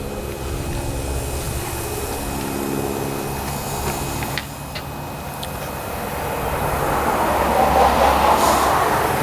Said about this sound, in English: you'll have little steam leaks here and there when you first fire up the boiler